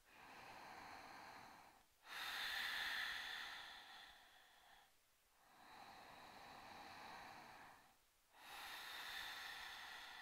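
Deep yoga breaths are drawn in and let out slowly through the nose and mouth, close and soft. Three long airy inhale-exhale cycles follow each other, with brief quiet gaps between them and no speech.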